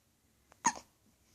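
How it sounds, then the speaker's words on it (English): A single sharp baby hiccup, close and brief, preceded by a faint soft breath in an otherwise quiet room. "Somebody has the hiccups."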